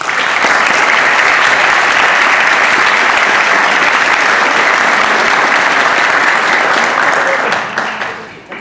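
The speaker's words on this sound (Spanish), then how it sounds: "pero antes yo les pido un aplauso" An audience at a formal legal gathering about a criminal procedure code project claps in loud, dense, sustained applause that tapers off in the final second.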